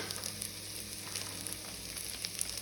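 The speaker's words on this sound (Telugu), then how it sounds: "1 స్పూన్ అల్లం వెల్లుల్లి పేస్ట్ వేసి మంచిగా ఫ్రై చేయాలి" Ginger garlic paste frying in a pan, a quiet, steady sizzle with faint crackles, close and continuous, with no talking.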